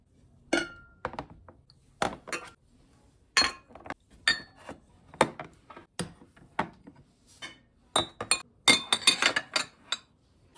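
Household items are set one by one into a bowl for an energy-cleansing ritual, a series of sharp clinks and hard knocks of glass and metal against the dish, spaced irregularly and close, in a quiet room.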